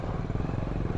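A motorcycle engine keeps running after a crash by a river, a steady close, rough rumble with rapid pulsing throughout.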